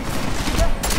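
Gunfire in the video game Deus Ex: Mankind Divided, a dense burst of loud shots running through the whole second with a sharp extra crack near the end.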